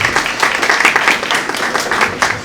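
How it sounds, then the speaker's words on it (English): A live audience claps loudly and densely in a short burst, many hands together in a lively round of applause. "Can we have a quick round of applause for Mike's shoes"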